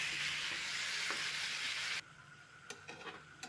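Flat beans and eggplant with coriander leaves stir-fry in a pan, giving a close, steady sizzle for about two seconds before it drops away to faint clicks and light stirring taps.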